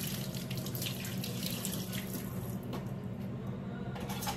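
Water gushes steadily from a tap into a sink, a continuous close splashing rush with no pauses.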